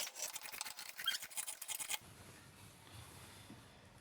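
Scissors snip through fabric in a round shape, producing a quick series of close, crisp cutting strokes for a couple of seconds, then quiet handling.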